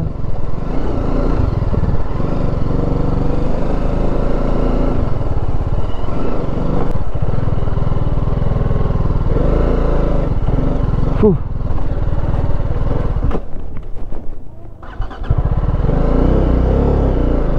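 An off-road vehicle engine runs loud and close throughout on a trip in Kerala, holding a steady rumble with slight shifts and a brief dip near the end.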